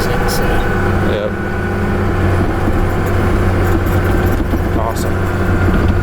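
Custom narrow BR 275 snowcat engine running at a steady, loud, close drone, with someone talking briefly over it.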